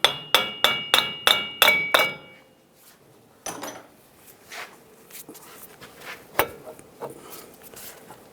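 A hammer taps several times on the axle at the front hub of a 2011-2018 Ram 1500 pickup, six sharp metallic knocks in quick even succession, followed by scattered lighter clinks and knocks.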